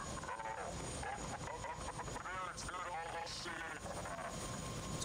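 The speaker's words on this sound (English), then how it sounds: "Oh, the helicopter was an actual simulation" A video game helicopter's rotor chop and engine drone, from the game Prey, run steadily throughout, with voices talking over it.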